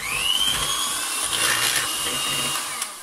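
A whisk or electric mixer beats lemon icing made with icing sugar, giving a steady close whirring with a rising whine, briefly louder partway through.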